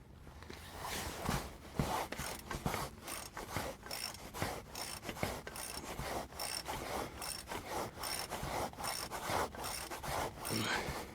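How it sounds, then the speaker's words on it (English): A 1/2-inch ratchet tightening the oil drain plug on a 2012 Toyota Camry, a quiet, steady series of rapid clicking and rasping strokes, close up and with no talking. "I kind of just cranked on it till it got hard to tighten"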